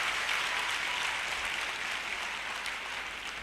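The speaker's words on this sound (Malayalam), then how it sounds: "നിങ്ങൾ കൈയടിച്ചത് എനിക്ക് വേണ്ടിയല്ല" An audience at a Malayalam motivational speech applauds steadily, with dense, sustained clapping filling the whole stretch at moderate loudness.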